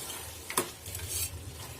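A spoon scrapes once across a pan of chicken while it sizzles quietly in the background.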